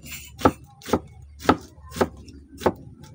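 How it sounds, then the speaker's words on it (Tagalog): A knife chops banana heart on a board in five crisp, evenly spaced strokes, close and alone. "Ganyan lang po ang paggagayat namin ng puso."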